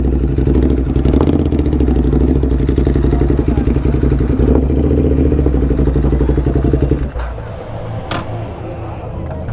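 Loud, rough motorcycle engine idling close by with a dense, rattly low rumble that holds steady and then drops to a softer, quieter idle near the end.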